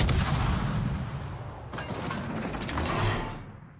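Warship main guns firing in the naval game World of Warships, two heavy booming blasts about two seconds apart with a mechanical rumble trailing each.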